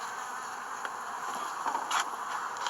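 Honeybees hum around a beehive in a continuous, close buzzing drone, with a few louder passes as individual bees fly near.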